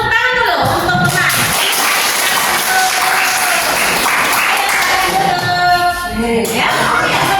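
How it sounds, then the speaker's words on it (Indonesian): Applause from a classroom of students cheering on classmates after a group presentation, a steady dense clapping close and loud across the whole stretch, with some voices mixed in. "boleh semangat tepuk tangan dulu untuk teman."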